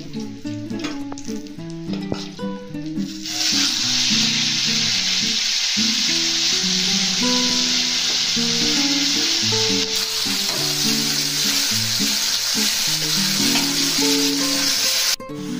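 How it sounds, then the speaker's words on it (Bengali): Fish sizzles steadily in hot oil, a loud dense frying hiss that starts after a few seconds and runs continuously, with music playing underneath. "কটা মাছ আছে, এগুলো ভেজে তারপরে সবজিগুলো ভাজবো"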